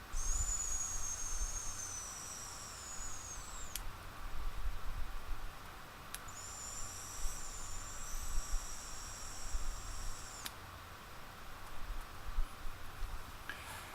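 A Kayfun vape atomizer whistles during draws, producing high thin whistling tones in two long pulls separated by a pause, over a soft background hiss, with faint clicks between.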